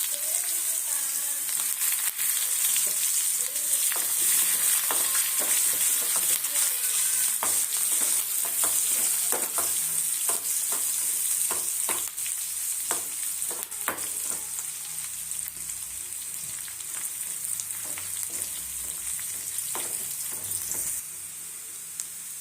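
Curry leaves and onion frying in hot oil make a continuous bright sizzle close by, with frequent short scrapes and taps of stirring running throughout, easing slightly in the second half.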